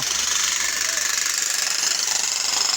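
A drilling machine cuts piles at a bridge construction site in Mirpur, Kashmir, giving a loud, continuous grinding roar with a harsh high-pitched hiss and no breaks, close by.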